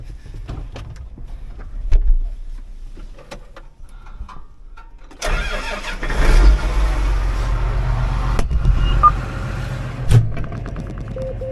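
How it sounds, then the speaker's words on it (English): A tractor engine turns over and catches around the midpoint, then settles into a steady low rumbling idle with a few clanks, close by, at corn planting. "I'm gonna climb in the tractor and fire it up."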